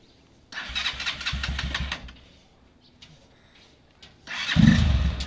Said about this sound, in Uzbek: Mototsiklni bir yurg'izdirib qabul qilib olingsizlar